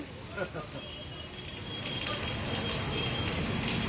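Light rain falls steadily in Dwarka, a soft continuous patter that swells gradually over a few seconds, with faint voices in the background.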